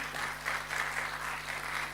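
A church congregation claps together in sustained applause during a sermon, a dense patter of many hands with a low steady hum beneath.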